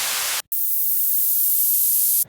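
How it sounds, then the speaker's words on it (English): A brief burst of white noise, a short gap, then a longer hiss that gradually thins and darkens like a falling sweep effect. "Do a nice little light noise fall here at the start."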